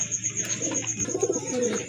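Pigeons coo close by in repeated soft, throaty bursts over a faint steady hum.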